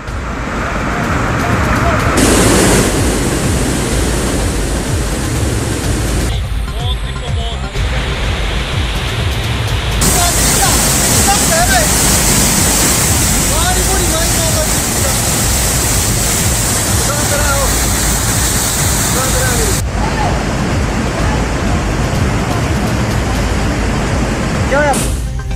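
A swollen river in flood in the Chamba and Kullu districts after a cloudburst and heavy rain: a loud, continuous broadband roar of rushing water that stays steady across several cut shots.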